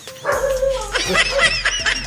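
A dog barks and yips several times in quick succession, fairly close, with a faint voice or whimpering sound underneath.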